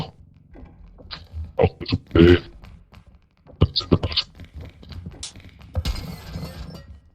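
Valuables smash and shatter in a video game (REPO) in short crashing bursts, with one longer breaking burst near the end, while a voice talks excitedly between them.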